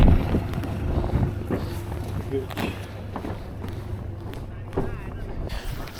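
Strong wind buffets the microphone in gusty, rumbling bursts during a boat haul out of a Merry Fisher 695, with a voice talking over it.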